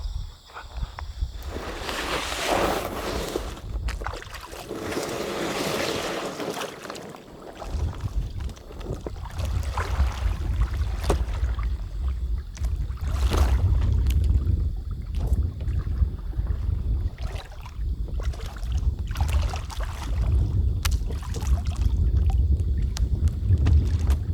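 Canoe out on a quiet lake early in the morning, with rhythmic paddle splashes and low rumbling wind buffeting the microphone, while the hull creaks softly over the water nearby.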